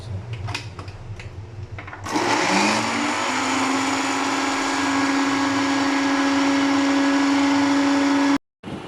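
A kitchen blender whirs up boiled eggs and oil into mayonnaise; after a couple of seconds of lighter clatter it kicks into a loud, steady motor whine with a rising pitch, running close and continuous before cutting off briefly near the end.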